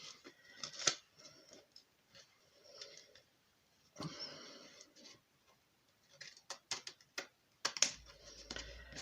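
Quiet, close snipping and crisp cutting sounds in irregular bursts, like scissors working through paper, with light rustling between cuts.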